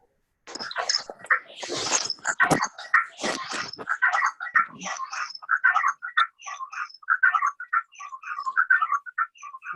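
Busy bird chirps and twitters run throughout, loud and close, in dense rapid bursts at first and then steadier trills, with no talk, picked up in the background of an online meeting.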